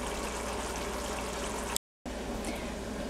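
Shrimp dopiaza simmers on medium heat, a steady soft bubbling and sizzle that runs continuously, broken by a brief gap of silence midway.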